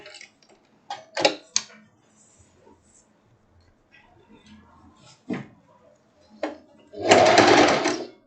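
A home sewing machine stitching the seam of a halter-neck dress, a few short whirring bursts and clicks, then a louder sustained run of stitching at the end, with a voice talking quietly between bursts.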